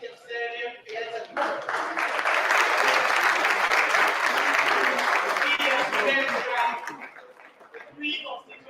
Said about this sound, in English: Warm applause for the University of Sierra Leone.